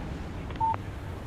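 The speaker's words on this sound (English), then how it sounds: "Text message from Barry" A short electronic phone alert tone for an incoming text message in Alan Wake Remastered, a single brief steady beep rising clearly over a faint game background hum, with no talk.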